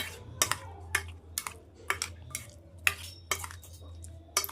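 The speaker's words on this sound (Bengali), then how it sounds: "এবার সব ফলগুলো দিয়ে একটু ভালো করে নেড়ে নেব।" A spoon stirs cut fruit and sugar in a bowl, tapping and scraping against the sides in about ten sharp clinks at an uneven rhythm, close and fairly quiet, with no voices.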